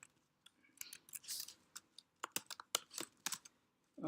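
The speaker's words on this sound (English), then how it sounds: "I want to type in something." Computer keyboard typing heard up close as sparse, irregular key clicks and short bursts in a quiet room.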